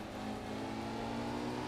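The engine of a Porsche rally car in The Art of Rally drones steadily, loud and close, with a buzzing, harmonic-rich tone held at a constant pitch, no voices.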